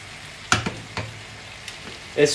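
Onions cook in a pan and are stirred, giving short scraping and sizzling bursts separated by pauses, close and moderately loud, with no speech.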